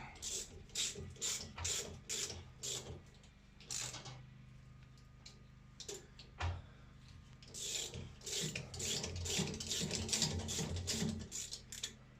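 Spiral tap from China cutting threads in metal for a custom transmission mount on a 1998 Suzuki Sidekick Sport: rapid repeated scraping clicks and ratcheting squeaks in uneven bursts, close and moderately loud, over a low hum.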